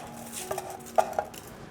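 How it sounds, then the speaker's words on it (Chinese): Washed rice is tipped into an electric cast iron pot, producing soft rattling and a few light metallic clinks over a low background hum, brief and close. "今天用小 V 电子铸铁锅来煮白米饭，把洗好的米放进锅里面"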